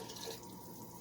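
Water pouring into a soup pot for beef tortilla soup, a soft steady splashing and trickling, faint and close with no talk.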